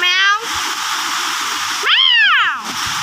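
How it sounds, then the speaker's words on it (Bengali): A house cat gives two loud, close meows, a short one at the start and a longer rising-and-falling one near the end, against steady rain noise. A woman coaxes it in between. "বুলি একটু হাই করে দাও, একটু হ্যালো বলো, বলো ম্যাও ম্যাও, বলো ম্যাও ম্যাও"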